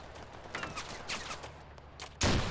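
Bursts of gunfire crackle in the tactical war video game Total Conflict Resistance, several quick shots at moderate level followed by a louder blast at the end.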